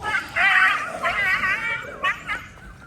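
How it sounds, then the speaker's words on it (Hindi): Several dogs in a residential neighbourhood give high, wavering yelps and whines in a few bursts, close by and fairly loud, with one drawn-out cry and shorter yips near the end. "वो दूसरे कुत्ते आ गए हैं ना"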